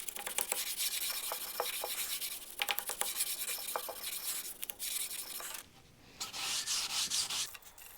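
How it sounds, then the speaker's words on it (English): Hand sanding block worked back and forth over a flat primed vinyl-sealed surface, steady close-up scratchy rubbing strokes with a short pause before resuming. "I'll literally just take my block, and I'm gonna try and sand this thing nice and flat."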